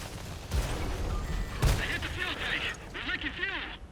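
Tank cannon shots from the video game World of Tanks, sharp booming reports over steady battle noise and voice chatter, with a loud impact around the middle and whistling shell sounds near the end.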